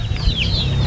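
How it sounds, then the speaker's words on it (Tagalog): Gamefowl chickens at a Talisay breeding farm give a short, close cluck with a thin higher call riding over a farmyard background, lasting under a second without talk. "Yan ang mga paragmanok."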